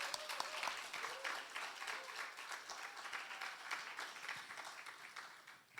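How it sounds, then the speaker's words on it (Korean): A church congregation applauds continuously during a Friday evening service, a dense patter of many hands clapping at moderate distance, fairly quiet overall. "나올 때 나왔으니까 박수로 축복해 주세요."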